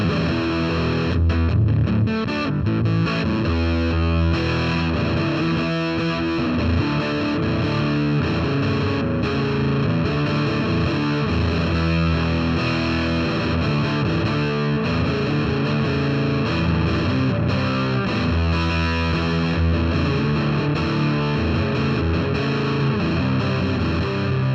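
Fuzz Face style fuzz pedal on electric guitar: loud, continuous, heavily distorted playing with thick saturated chords and bends, no voices.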